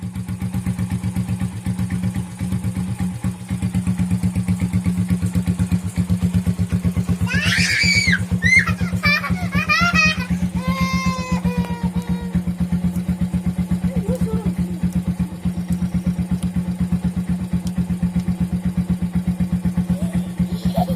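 A modified Bajaj 4S Champion motorcycle idles with a steady, close, thumping silencer beat throughout, while a person talks briefly over it midway.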